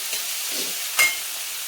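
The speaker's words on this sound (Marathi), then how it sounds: "कांदा गुलाबी होईपर्यंत चांगला परतून घ्यायचा" Sliced onions sauté in a hot pan for poha, giving a steady close sizzle, with a soft scrape of stirring midway and a brief sharper clink near the end.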